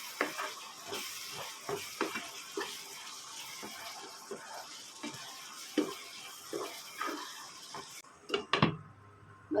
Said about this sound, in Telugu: ఇప్పుడు ఒక్కసారి కలుపుకోవాలండి మధ్యలో